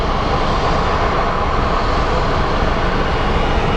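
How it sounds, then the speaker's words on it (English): A small Navy propeller plane's engine drones steadily and loudly at an airport, a dense, even roar that holds without a break. "Little Navy plane, apparently."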